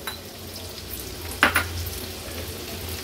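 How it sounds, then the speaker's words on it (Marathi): A large onion added to hot oil in a pan for tempering sizzles steadily at moderate level, with a brief clatter as it drops in midway and a low hum underneath. "आता फोडणीला आपण हा मोठ्या साईजचा एक कांदा ऍड करतोय।"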